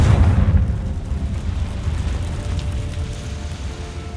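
A Confringo blasting spell explodes in Hogwarts Legacy, a loud boom at the start that decays into a long low rumbling tail.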